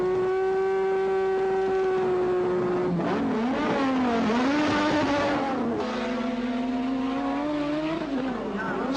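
A 1986 Formula 1 car pulls away from its pit stop at Brands Hatch, its engine note climbing steadily through several high-pitched revving surges, loud and close.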